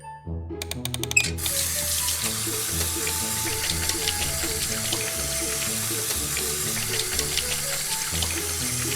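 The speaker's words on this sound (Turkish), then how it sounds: "Şimdi patilerimi yıkayabilirim." Water runs steadily from a kitchen tap in a pretend cooking game with play dough, starting after a short clatter and continuing as a close, constant splashing stream over a low background hum.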